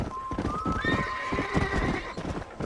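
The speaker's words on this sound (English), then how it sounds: "This is my war horse." A war horse in the video game Red Dead Redemption whinnies loudly and close, a rising then falling neigh over the muffled thud of hooves and game ambience.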